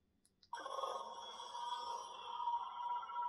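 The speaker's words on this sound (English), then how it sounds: "So the Dark Saber sounds like this." Dark Saber sound font on a Xenopixel V2 neopixel lightsaber, a Darth Nihilus replica, igniting with a sudden electric ignition and settling into a steady, rich humming drone, close and alone.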